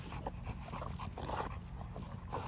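A young dog whimpers and yips softly amid steady background noise outdoors, giving short, thin whines at a moderate distance.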